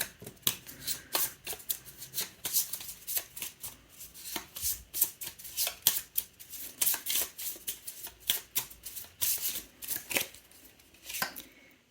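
Astrology tarot cards being shuffled by hand, a rapid run of crisp papery riffles and slaps repeating throughout, close and clear with no talking.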